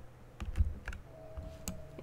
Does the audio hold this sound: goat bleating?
no